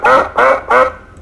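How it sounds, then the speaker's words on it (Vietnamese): Three loud, close duck quacks in a quick, even sequence, a cartoon-style sound effect from a Scratch animal program, with no talking over them. "vịt này"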